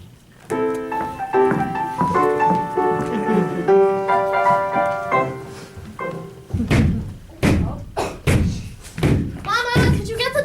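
Several heavy knocks on a door in a stage musical performance, loud thudding raps in an irregular cluster that follow sung music and alternate with talking.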